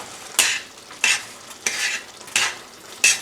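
Taco filling in a pan on a stovetop burner gives a soft, steady sizzle, and five evenly spaced scraping stirs rise above it, close and fairly quiet, with no talking.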